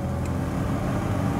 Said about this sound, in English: the stove seems to want to howl with its sounds the blowing of the winter wind